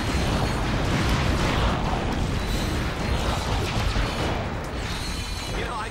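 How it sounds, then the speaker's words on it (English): Dense, roaring bursts of explosions and rumbling debris from the video game Ratchet: Deadlocked fill the clip continuously, loud and chaotic with crackling on top. "I think explosions are pretty."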